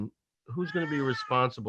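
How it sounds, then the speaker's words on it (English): A house cat meows insistently during a remote city council meeting, mixed with a voice speaking nearby. "That's my cat, by the way."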